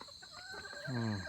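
Bantam chickens in an enclosed coop, a short close burst of clucking and crowing-like calls rising at the end over a faint background hum.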